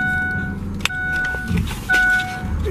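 A truck engine idles with a low steady rumble, with a few clicks and a faint whine over it.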